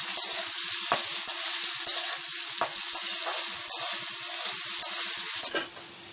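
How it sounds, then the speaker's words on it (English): Potatoes frying in a pan with a constant bright sizzle, broken by several sharp clicks and scrapes as they are stirred, no one speaking. "So we'll just fry a little bit the potatoes."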